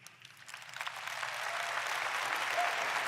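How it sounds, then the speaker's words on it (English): Audience applause at an NVIDIA GTC keynote, starting with scattered claps that quickly build into a full, sustained wash of clapping from a large crowd. "He finally got a real clap"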